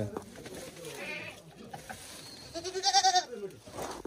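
A goat bleats close by in a rural farmyard where five goats are kept, a wavering call rising near the end, with a person talking faintly around it.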